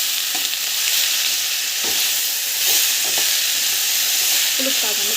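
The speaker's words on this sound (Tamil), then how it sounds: "புதினா வந்து ஆட் பண்ணிக்கலாம். நல்லா வதங்கணும்." Mint leaves sautéing in a pan for a Tamil home recipe, with a steady sizzle of frying throughout and several soft scrapes and taps of stirring, close and moderately loud, with no talk.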